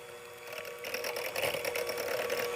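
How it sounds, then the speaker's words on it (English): An electric hand mixer whirs steadily while blending wet ingredients, a faint, even motor hum with a slight rise as it works, heard alone. "The reason I like to do this with the mixer is it gets it completely mixed before I add it to the flour"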